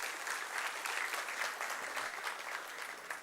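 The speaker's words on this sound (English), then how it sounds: "can we please welcome him with a huge round of applause" A round of applause welcoming a speaker to the dais at an annual convention: a full, steady crowd of hands clapping continuously at moderate volume, with no talk over it.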